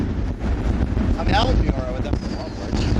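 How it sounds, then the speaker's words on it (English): Strong wind buffeting a microphone on an open golf course, a low rumbling roar with gusts, while people talk over it. "the wind's picked up even more"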